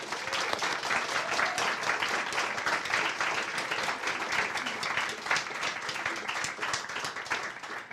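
An award ceremony audience applauds a children's storyteller and picture-book author, giving sustained, lively clapping from many hands with a few louder individual claps standing out.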